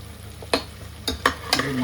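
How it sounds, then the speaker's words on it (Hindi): Masala fries in a pan, with a few sharp scraping clatters from stirring spaced over a couple of seconds above a low steady hum. "ये मसाला गया अच्छे से भून"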